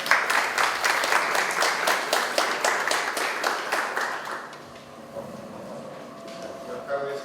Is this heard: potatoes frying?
no